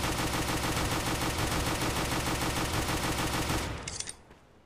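Rapid automatic gunfire from a CS:GO weapon crackles as a dense, loud, evenly spaced burst for nearly four seconds, then stops abruptly and leaves a brief fading tail and quiet.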